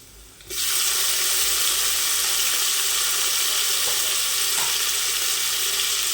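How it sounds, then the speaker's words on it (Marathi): Chopped tomatoes hit hot ginger-garlic paste in a pan for dal khichdi. A loud, dense sizzle erupts half a second in and holds steady, close and unbroken, with no speech. "आलं लसणाची पेस्ट चांगलं परतून घ्यायचं हे आणि आता आपण याच्यात टोमॅटो घालूया"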